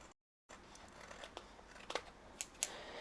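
Scissors snip along the edges of scrapbook cards for a flip pocket page, a few short crisp cuts with light paper crinkle, close and quiet with no talk.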